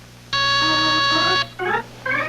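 A smoke detector alarm in a 1978 television commercial gives one loud, sustained electronic tone, then two shorter bursts of the same piercing sound.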